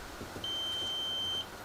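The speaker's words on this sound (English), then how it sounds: "so it beeped" A wire tester emits a single steady electronic beep lasting about a second as its probes touch the ends of lamp wires, clear against a quiet room background.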